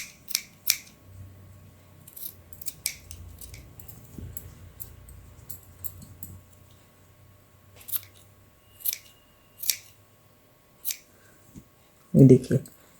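Scissors snip through knitted wool yarn while finishing a small hand-knit outfit for a figurine, giving a series of sharp, separate cuts spaced a second or so apart, with low background noise and a thump near the end.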